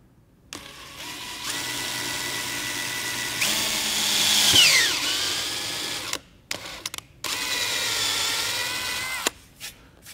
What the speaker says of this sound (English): Now I'm going to drill and tap an M4 thread.